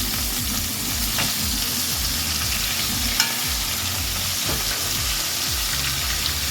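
Quail frying in a large pan with steady, loud sizzling and spattering oil throughout, occasional louder pops standing out, with no voices.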